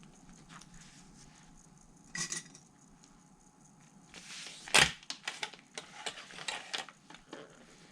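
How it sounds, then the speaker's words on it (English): Sewing clips snapped one after another along a zipper placket for a handbag, several sharp plastic clicks with a louder snap midway, close and with no talking. "I'm going to continue clipping down the entire zipper."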